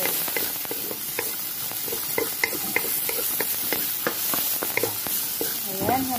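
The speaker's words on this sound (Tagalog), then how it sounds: "habang ginigisa yung ginger" Ginger sautés in hot oil, a steady loud sizzle punctuated by frequent scraping and clinking of a utensil stirring in the pan, with a brief voice near the end.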